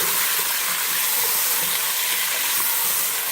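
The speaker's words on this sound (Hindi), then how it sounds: "पेस्ट के साथ फ्राई करेंगे, अच्छी तरह से भूनेंगे।" Mutton pieces frying with spice paste in a hot pan, a steady close hiss and sizzle running unbroken throughout with no talk over it.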